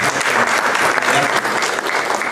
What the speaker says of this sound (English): And so give my colleagues a round of applause.